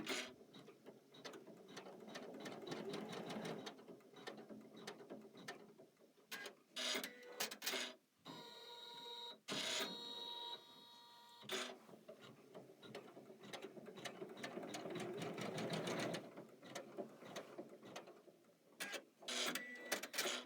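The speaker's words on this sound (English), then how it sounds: "we're going to stitch the placement lines for that. That'll be step 29 on your machine." A computerized embroidery machine stitches placement lines for a mug rug, giving a steady rapid mechanical clatter with short pauses and restarts throughout, close and moderately loud with no talking.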